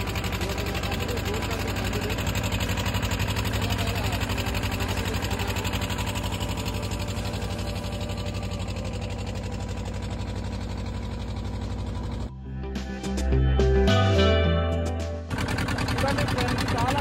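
A motor boat engine droning steadily out on the Nagarjuna Sagar backwater, loud and continuous with a brief change in tone near the end, and voices talking over it.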